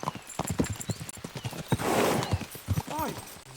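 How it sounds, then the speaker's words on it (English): Horses gallop in the video game Kingdom Come Deliverance 2, with rapid rhythmic hoofbeats, a whinny near the end and voices over the top. "We should spur the horses on."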